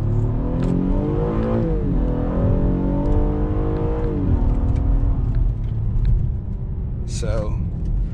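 Engine of a 2020 Acura TLX A-Spec revs hard as the car accelerates in manual mode, pitch climbing through several gear pulls in a loud, sustained interior roar, with brief talk near the end.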